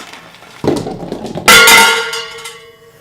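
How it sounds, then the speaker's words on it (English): A bell is struck twice during a dice tournament, first a dull clang and then a bright, ringing strike whose metallic tone lingers and fades over a couple of seconds. "there's a bell, so that's probably good enough"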